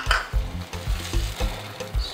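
A spoon stirs a Kakanda dawa and pepper mixture frying in a pot, rhythmic scraping strokes about twice a second over a steady close sizzle, with no talk.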